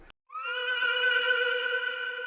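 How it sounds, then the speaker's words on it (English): A horse lets out a long, loud whinny that holds steady for about two seconds, preceded by a brief click. "So we have a horse here."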